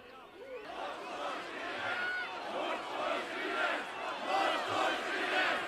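A rally crowd on Heroes' Square responds to a speaker with a swelling roar of cheers and shouts that rises and falls in waves, loud and sustained.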